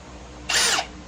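A power drill bores holes for tail lights on a light-duty trailer, lubricated with cutting oil, giving one loud, steady high whine of about a third of a second that rises sharply and then cuts off, with no talking.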